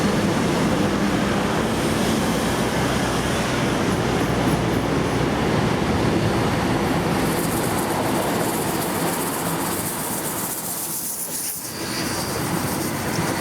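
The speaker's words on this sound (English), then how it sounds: "This is the final train for Saturday." A steam train rumbles past nearby at the Hunter Valley Steamfest with a loud, continuous roar and rattling wagons, the noise shifting in tone toward the end.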